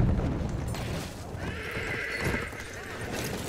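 A horse in the video game Battlefield 1 gives a drawn-out whinny over a rumbling battlefield background, with hoof clatter and game noise around it.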